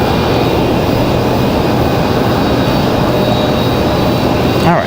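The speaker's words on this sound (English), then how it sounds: "The CRJ finally gets out of here." A CRJ regional jet departs Raleigh-Durham International, its engine roar loud and steady throughout, a broadband rush with a sustained whine, swelling slightly near the end.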